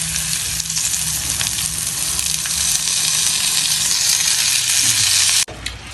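Washed Gobindobhog rice sizzles and fries in a pan with roasted peanuts and other ingredients for bhuna khichuri, a loud continuous crackle with stirring noises close by, ending abruptly.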